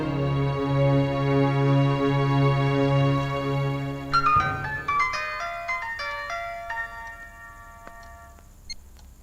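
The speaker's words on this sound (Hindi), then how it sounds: "रानी, तुम्हारे लिए फोन है।" An electronic phone ringtone plays loudly, a sustained melodic tone that gives way after a few seconds to a bright chiming tune of descending notes that rings out and fades, with no talking.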